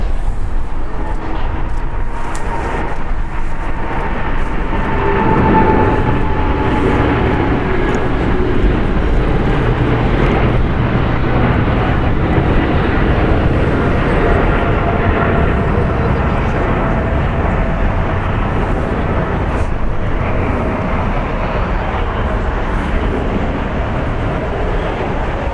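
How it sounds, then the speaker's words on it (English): A Boeing 777 freighter of China Cargo Airlines departs a large international airport, a continuous loud, broad engine roar that holds steady for the whole stretch, with faint background noise beneath. "Departing is China Cargo Airlines Flight 222, going to Shanghai. It's a Boeing 777 freighter."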